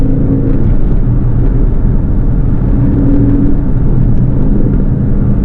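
Aston Martin DB11 Volante engine under load while cornering with the suspension in Sport, a steady loud rumbling drone with faint shifts in pitch, continuous and close throughout.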